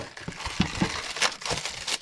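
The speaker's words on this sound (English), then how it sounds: "I'm going to rip the press and seal." Press and Seal plastic wrap being pulled and torn off the roll, close irregular crinkling and crackling with a few sharper rips, fairly quiet.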